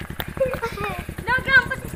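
Horse walking with a steady, even clip-clop of hooves on a hard surface, close by, while people talk loudly over the hoofbeats.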